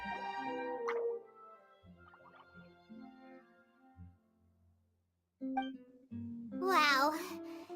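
Plopping water droplet sounds from a video game, a few discrete drips and plops, fairly close, with a childlike voice chirping between them.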